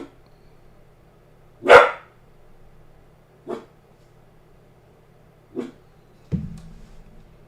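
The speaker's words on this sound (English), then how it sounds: "What up, Max? What are you barking at?" A dog named Max barks a few times indoors: one loud sharp bark, then three shorter, quieter barks spaced a couple of seconds apart over a low steady hum, with no talking.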